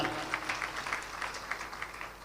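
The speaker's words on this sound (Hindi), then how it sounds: "मुर्दे के नाम पर आपने भी तालियां बजाई" An audience claps at a religious discourse during a chaturmas gathering in Indore, making a faint, distant patter of scattered, fairly rhythmic hand claps that lasts about two seconds and slowly thins out.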